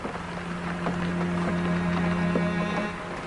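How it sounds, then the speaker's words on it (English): A boat sits on rainy water in the virtual reality game Negotiator VR, heard as a steady low hum with watery washing and sloshing that swells a little through the middle, alone with no talking. "Oh, there's a boat."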